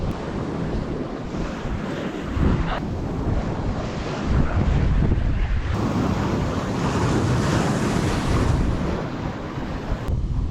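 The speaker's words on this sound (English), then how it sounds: "There's big waves coming in" Big ocean swell crashes against a secluded rocky headland in Indonesia, a steady, heavy roar of surf with surging waves, mixed with wind buffeting the microphone.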